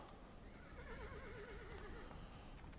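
A horse whinnies in the video game Sunset Riders, a single wavering neigh rising over a soft background bed, faint and alone without speech.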